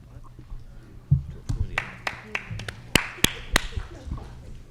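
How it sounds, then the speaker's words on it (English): At a Millis town meeting, a few scattered claps ring out sharply in a quiet hall, about a dozen separate hits that grow a little quicker and louder before stopping, over faint room noise. "Oh, there is clapping."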